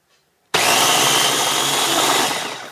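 A small blender grinds almonds into almond butter, starting abruptly after a near-silent moment and running as a loud, steady, coarse whirring grind that eases slightly toward the end, with no talking.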